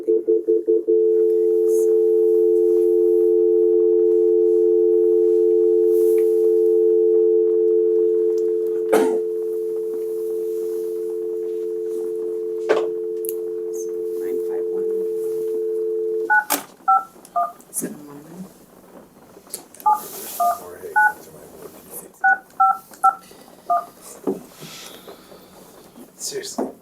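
A conference phone at a school board meeting plays a long, steady dial tone, followed by a series of short, separate keypad dialing beeps in uneven bursts, with faint room noise between.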